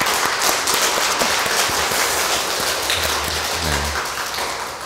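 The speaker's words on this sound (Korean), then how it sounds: "박수 한번 쳐야겠어요." A church congregation at a Catholic parish in Korea claps hands together, a dense, loud burst of applause filling the space, with a low hum and a few tonal bits near the end.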